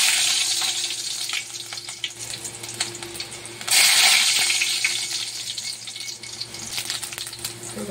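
Garlic drops into a hot pan and breaks into a sudden loud, bright sizzle midway, which then settles into steady frying crackle with small clinks, no voices.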